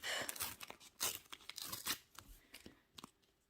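A trading card packet for a wizard-themed sticker album being torn open close up: quick crinkling rips and paper crackle in short bursts, faint and alone.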